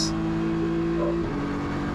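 Race car engine holding a steady high drone through a lap of Buriram circuit, the pitch shifting slightly mid-way as it flows out of a corner; loud, close and continuous, with no voices.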